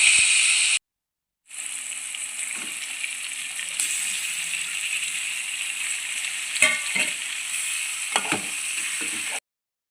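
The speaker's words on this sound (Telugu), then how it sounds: "ఇప్పుడు ఇందులోకి చేప ముక్కల్ని యాడ్ చేసుకోవాలి." Fish pieces frying in oil with turmeric, a loud, steady hissing sizzle after a brief gap, with a few soft clicks of a utensil moving through the pan.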